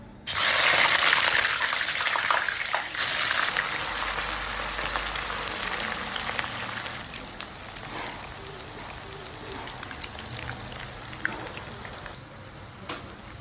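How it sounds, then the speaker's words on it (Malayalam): Banana chips frying in hot oil at home, a loud steady sizzle and bubbling that starts abruptly and then settles a little, continuing throughout with faint clinks. "നമ്മളെ കൊണ്ട് കായ വറുത്ത് ഉണ്ടാക്കാൻ പറ്റുമോ എന്ന് നോക്കാം"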